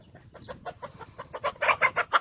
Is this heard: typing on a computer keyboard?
no